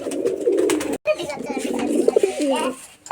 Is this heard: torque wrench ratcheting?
no